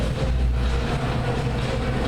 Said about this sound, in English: There you go, so we're on the tram.